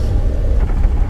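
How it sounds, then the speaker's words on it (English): A car engine in a video game rumbles low and steady, a continuous deep drone filling the short moment without any talk over it. "Oh, I hear a car starting."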